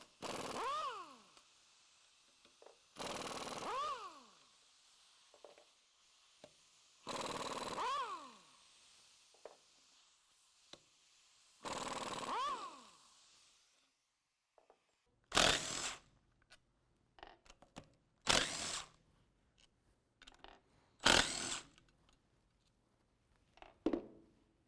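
A power tool works the factory steering knuckle bolts on a 2017 Ford F-150 4WD, with four long whirring bursts that rise and fall in pitch, then several short, sharp rattling bursts close by, separated by quiet pauses.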